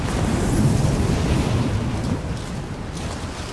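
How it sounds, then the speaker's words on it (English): Strong mountain wind on a summit in Rise of the Tomb Raider, a loud steady roaring gust that swells early and eases slightly toward the end, with no talking. "This wind is crazy."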